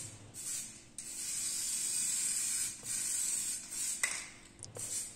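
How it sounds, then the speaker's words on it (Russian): A spray gun applies Body 981 epoxy primer to welded spots on a car body, hissing steadily in long passes with brief pauses between strokes. "Вот такой вот Body 981, это эпоксидный. И хорошо заливаю те места, которые попротирал"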